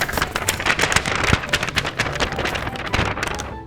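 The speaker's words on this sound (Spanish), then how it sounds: "Púsose a llover muy fuerte" Heavy rain pours down in a broadband, steady wash with dense crackling patter throughout, loud and close, with no voices.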